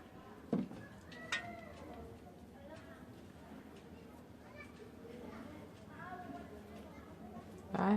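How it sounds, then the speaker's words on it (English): A domestic cat meows several times under steady indoor background noise in a kitchen, with one louder meow at the end; people talk faintly throughout. "I have this cat that has refused to go to sleep"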